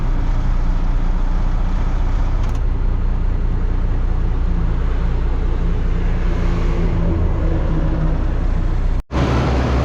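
A Mack truck engine, one with a lingering fault, roaring steadily and loudly at close range for several seconds, a dense broadband drone that cuts out abruptly near the end, with no talking.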